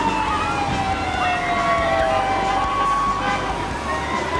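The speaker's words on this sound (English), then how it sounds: "The police are just as bad running those sirens in there." Police sirens wail loudly through a tunnel during a Fourth of July parade in Ketchikan, their rising and falling tones echoing over a dense, continuous roar of crowd and traffic noise.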